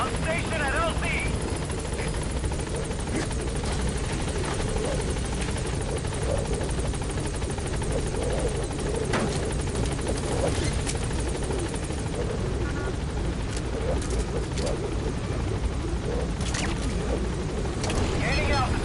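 The Pequod helicopter in Metal Gear Solid V arriving at a landing zone, its rotors a loud, constant thrumming roar that holds steady throughout, with radio chatter heard over it.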